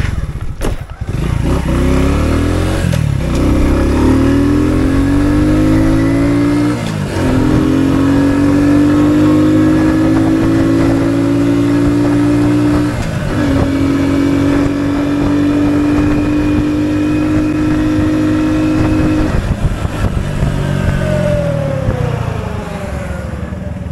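An Orion moped engine revs at full throttle on a top-speed run near woods. Its loud, buzzing two-stroke whine rises in long climbing sweeps, dips briefly between pulls and winds back up, heard close throughout.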